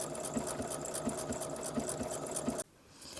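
A sewing machine runs a triple stitch with metallic thread, a steady close whirring with rapid repeating needle pulses that stops abruptly near the end, leaving quiet room tone.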